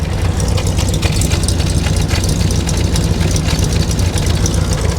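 A 1967 Chevrolet Corvette with a 327 V8 and five-speed runs steadily, a loud, close, rumbling idle that holds an even throb without letting up.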